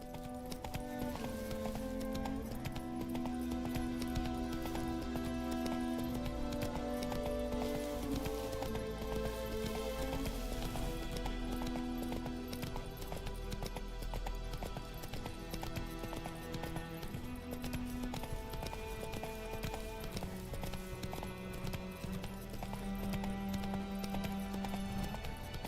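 Hoofbeats of a horse running in The Witcher 3 video game, a steady clip-clop under continuous orchestral game music, with an occasional whinny.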